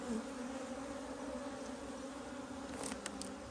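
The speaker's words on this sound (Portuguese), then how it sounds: "As abelhinhas campeiras chegando." Stingless campeira bees buzz around a hive box after being rescued from a tree trunk, a steady close droning hum that persists throughout, with a few brief higher whines near the end.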